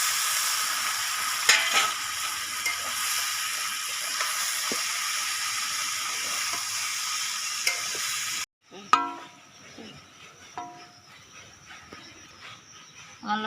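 Taro stolons and jackfruit seeds fry in a pan with a loud, steady sizzle for several seconds, then the hiss drops sharply and gives way to quieter crackling and stirring clatter.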